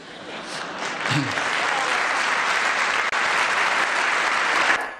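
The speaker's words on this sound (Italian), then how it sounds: "questo è il passaggio più applaudito eh, di Mario Monti con la battuta finale" Steady, dense applause fills a hall after Mario Monti's speech, loud and sustained for several seconds, with a brief voice surfacing early on before the clapping runs on unbroken.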